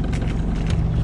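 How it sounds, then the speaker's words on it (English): A sailboat's engine idles while the boat rides at anchor in a swell, a steady low rumbling drone that holds without a break throughout. "We're going to leave the engine on for a bit."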